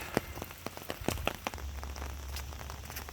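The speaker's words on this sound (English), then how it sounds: "The hills are alive with the sound of raining." Rain pattering on wet rocks outdoors in hilly country on Vancouver Island, close and fairly quiet, with scattered distinct drips over a steady soft wash.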